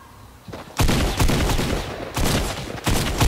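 Gunfire in Fortnite Mobile, with loud bursts of rapid automatic fire in several dense volleys separated by short pauses, close and harsh, with no talking.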